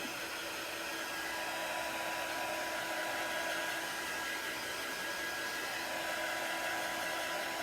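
Electric hair dryer blowing steadily on a Halloween craft project, a constant loud whooshing hum with no change in pitch and no voices.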